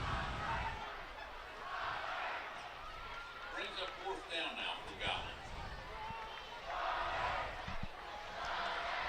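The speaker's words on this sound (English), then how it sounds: "Bomber crowd's getting loud over there." A high school football crowd at a Mountain Home Bombers vs Harrison Goblins game swells into a distant, rising roar and cheering, with voices talking over the broad stadium noise.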